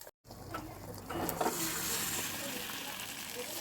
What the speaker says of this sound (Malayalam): ചട്ടി ചൂടായിട്ടുണ്ട്. ഇനി നമുക്ക് മുട്ട ഒഴിക്കാം.